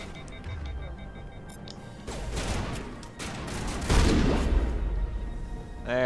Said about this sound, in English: Everything's just exploding.